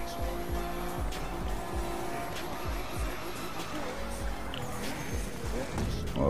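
Racing car from The Crew 2 driving along steadily, its engine holding a continuous roar with repeated low thumps and brief tire noise, close and fairly loud, with no talk over it.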